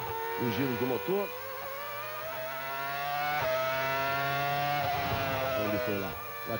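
Fernando Alonso's Formula 1 car at the 2004 Spanish Grand Prix screams as its engine revs near 18,000 rpm, with high-pitched harmonic sweeps rising and falling under a commentator's voice.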